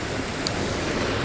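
Fast-moving river water at Graiguenamanagh, County Kilkenny, Ireland rushes in a dense, steady broadband wash, loud and continuous with a brief faint high tick partway through.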